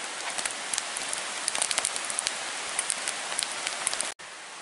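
Steady rain pattering on surfaces at a trail camp in the Black Forest of Pennsylvania, a dense hiss with scattered louder drops and a brief cut near the end.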